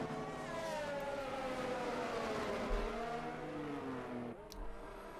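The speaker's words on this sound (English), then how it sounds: "you get that sweet turbo effect all on the back end of the cars" Race cars in a sim racing league event at Jeddah roar on track, engine tones rising and falling in steady layered harmonics with a sustained turbo-like whine, loud and continuous throughout.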